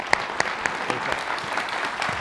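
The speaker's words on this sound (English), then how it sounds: "I want to give these guys a round of applause." Audience at an urban innovation panel discussion giving a round of applause, steady clapping from a modest crowd with a few sharp individual claps standing out at the start.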